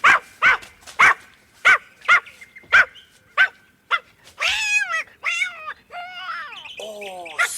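A dog barks sharply about eight times in a steady rhythm in a garden, then a cat answers with several loud, drawn-out yowls and meows, close by.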